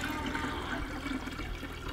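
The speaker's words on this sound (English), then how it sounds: "All right, so just pour that in." Homemade kombucha pours through a plastic funnel into a jar, a soft continuous splashing and gurgling of liquid, close and steady with no talking.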